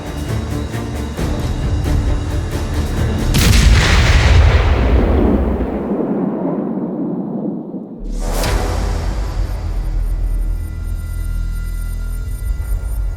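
A big naval fortress artillery gun fires with a heavy, loud blast that rolls and decays over several seconds, and then a second sharp report follows with a long booming rumble.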